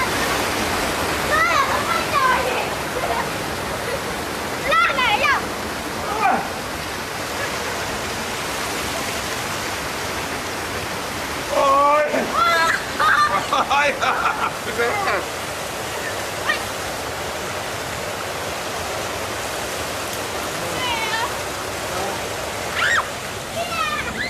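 A large waterfall pours tons of water that serves as a shower, giving a steady, loud roar of rushing water throughout, with brief higher sounds cutting through at moments.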